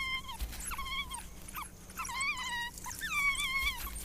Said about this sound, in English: In the drier shrubland, wild dogs have adapted to use a different strategy to secure their food.